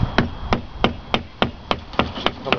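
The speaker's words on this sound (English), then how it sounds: "I have a wood block and a hammer. And right here, I'm going to go ahead and tap to see if we can knock this thing off." A hammer strikes a wood block held against the lower unit cap of a 1976 Mercury 1150 outboard, giving about nine sharp, evenly spaced knocks, close and loud, with no talk.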